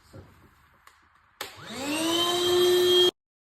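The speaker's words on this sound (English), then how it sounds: "then we'll give the couch a good vacuum. I like to use this vacuum attachment to get in the cracks." A vacuum cleaner fitted with an attachment starts up after some faint brushing and rises to a steady whining drone while cleaning a couch, then cuts off abruptly.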